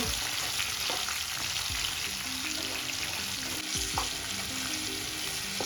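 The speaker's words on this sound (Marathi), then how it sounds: "टोमॅटो छान मेल्ट होईपर्यंत परतून घ्यायचा आहे" Onion and tomato sauteing in a pan for a village-style mixed vegetable dish, a soft continuous sizzle with repeated light scrapes of a spatula stirring, no voices.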